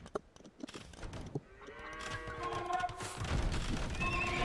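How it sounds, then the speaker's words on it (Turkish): Horses in the Age of Empires II: Definitive Edition strategy game, with a neighing whinny rising over a busy mix of battle and game noise that grows louder toward the end. "Şurada atlar var."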